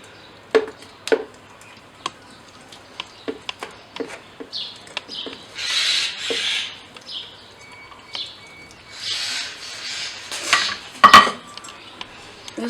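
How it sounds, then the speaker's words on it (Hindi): Cubes of mango dropped into a blender jar in a home kitchen, making a scattered series of light, sharp knocks and clinks close up, followed by softer shuffling rattles, with no talking. "सबसे पहले मैं जार में डाल दूँगी मैंगो क्यूब्स।"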